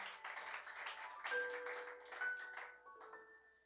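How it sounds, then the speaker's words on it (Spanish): Congregation applause in a church service: a steady wash of many hands clapping for several seconds, with a few bright ringing tones sounding over it before the clapping thins out. "Den un fuerte aplauso al Señor."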